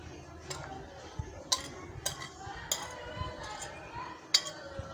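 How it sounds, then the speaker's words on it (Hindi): A spoon scrapes and clinks against a bowl while spices are mixed into yogurt for a chicken steam roast, giving sharp, irregular taps over a soft background with faint room noise. "सारे मसाले जो है वो दही में मिक्स कर देंगे।"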